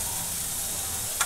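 A dry vegetable dish fries in a kadhai, giving a steady soft sizzle throughout with one brief scrape of stirring near the end.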